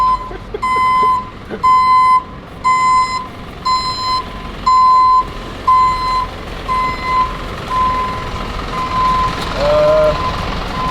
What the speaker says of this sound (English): Sound Casey makes when she's backing it up on me.